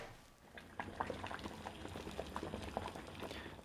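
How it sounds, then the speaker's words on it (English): A vintage 39-year-old US MRE Chicken a la King ration pouch boils in a pot of water on a kitchen stove, giving a steady, close bubbling and popping that continues throughout without talk. "This has been boiling in the pot for around 10 minutes."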